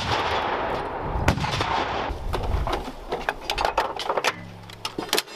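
An M119A3 105 mm towed howitzer of the US Army fires a live round in direct-fire mode during a field artillery exercise, one loud blast with a rolling tail at the start, then fainter clanks and rattles.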